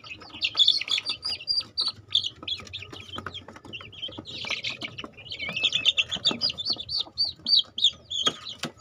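Small chicks peep and chirp continuously in high, rapid bursts, close by in a simple brooding pen, with occasional soft clucking and shuffling in between.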